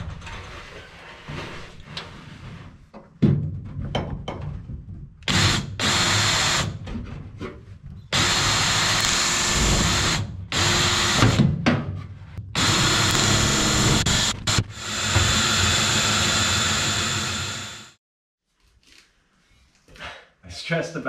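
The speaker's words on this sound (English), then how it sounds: "take it back over to the airplane, match drill that to the airplane" A power drill match-drilling a part on an RV-7 aircraft whirs in repeated bursts of several seconds each, loud and close, with short pauses and brief mechanical clicks between runs.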